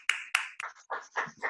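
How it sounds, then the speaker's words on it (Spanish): A small, brief round of clapping from a few people in a Spanish-language podcast studio, several scattered quiet claps, close and soft, tapering off quickly. "os vamos a dar un mini aplauso nosotros"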